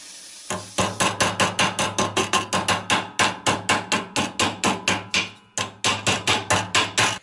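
A hammer strikes sheet metal over and over, bending an angle into a car body panel: about two dozen sharp, ringing metallic blows in a quick, fairly even rhythm, loud and close, with one brief pause partway through.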